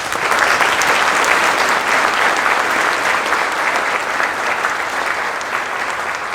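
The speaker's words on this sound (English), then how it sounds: "I think it deserves a round of applause" Sustained audience applause fills a Kentucky Bourbon Hall of Fame induction ceremony in 2022, a dense, steady wash of clapping that holds at an even, loud level throughout with no voices standing out.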